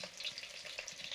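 Fish frying in oil in a pan, a close, busy crackling sizzle with small irregular spits and pops, loud and continuous over a short stretch with no voices.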